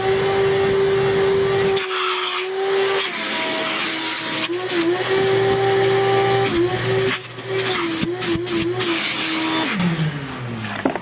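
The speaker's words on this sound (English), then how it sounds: "I have my vacuum here, and we're gonna vacuum out the seat and everything." A handheld vacuum cleans a car seat before an Alcantara upholstery treatment, a steady loud motor whine running throughout with pitch dips and surges as the nozzle presses and lifts against the seat.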